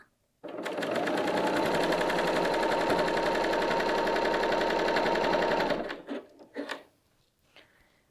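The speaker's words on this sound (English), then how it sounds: "And just keep sewing around as smoothly as possible." A Bernina L 890 sewing machine stitching a neckband onto a knit dress, a steady close whirring run of about five seconds that stops abruptly, followed by a few soft fabric handling clicks.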